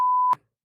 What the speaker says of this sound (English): Get ready for the beep.